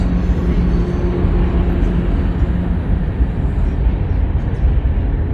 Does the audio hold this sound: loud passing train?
yes